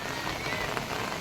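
Steady rain in Haridwar hissing across a surface, a dense, even wash of droplets with no breaks, fairly close and moderately loud.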